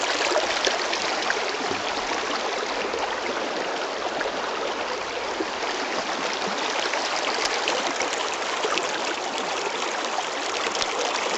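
The Bear River runs in a thin sheet, an inch or so deep, over a wide shallow stretch, making a constant, close, hissing rush of flowing water with no voices.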